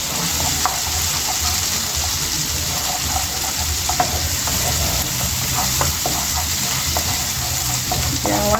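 Garlic stir-frying in a hot pan, a steady broadband sizzle with frequent scraping stir strokes throughout, close and fairly loud with no voices.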